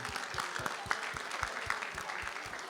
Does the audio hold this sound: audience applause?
yes